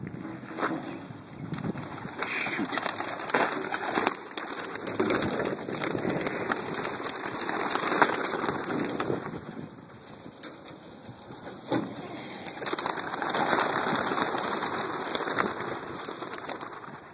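Racing pigeons, old birds of a club race, burst from a crate release outdoors, a broad rush of wing flapping rising and falling over about seventeen seconds with steady wind and water noise in the background, no talking.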